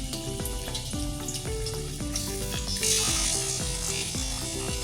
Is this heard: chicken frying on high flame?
yes